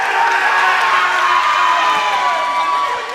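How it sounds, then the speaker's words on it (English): Crowd and coaches cheering at a high school swim meet during a close race, a steady, dense wash of shouts and whoops that holds loud throughout and eases slightly at the end. "with the cheering from the crowd and the coaches"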